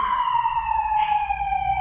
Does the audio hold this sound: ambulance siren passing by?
yes